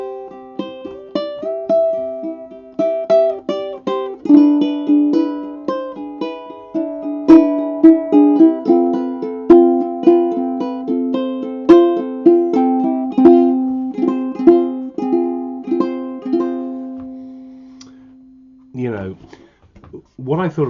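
A Luna Tattoo concert ukulele is plucked and strummed close up in a bright, clear run of notes and chords that end in a long fading ring, followed by a brief voice.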